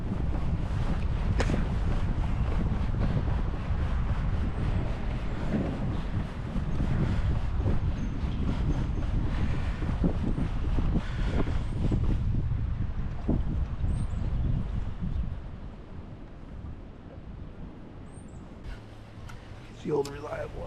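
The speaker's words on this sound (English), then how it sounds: "Thought I might have been able to get out of the wind out up here, but apparently not." Strong wind blowing over open water while out in a new kayak, a loud steady roar and buffeting on the microphone that eases off toward the end, where a voice speaks briefly.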